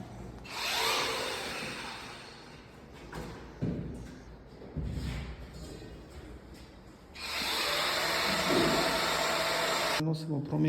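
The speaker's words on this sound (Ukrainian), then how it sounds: "Видно, я його так само шліфую" A power sander whirs in long stretches against a microcement layer on stairs, starting and stopping, with a few thuds in between; loud and close.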